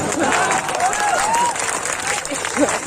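Audience clapping at a Hindi comedy poetry gathering, a dense steady wash of applause from a crowd with a voice speaking or calling over it.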